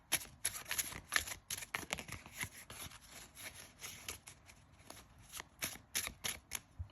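A tarot deck being shuffled up close, repeated quick riffles and soft rubbing strokes in an uneven rhythm, fairly quiet and with no talking.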